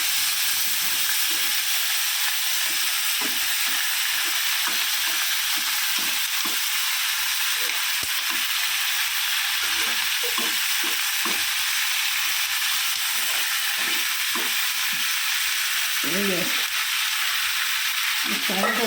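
Green chili and onion tempering in a little oil for a fish curry, giving a loud, constant hissing sizzle throughout with faint stirring clicks underneath.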